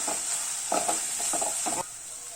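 Chili powder mix for dried fish curry (karuvaadu kuzhambu) is stirred in a pan over a steady, faint sizzle, with several short scraping stir strokes in close succession.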